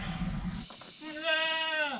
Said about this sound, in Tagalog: Yung mga kambing natin dito oh, naghihintay pa sila ng kumpay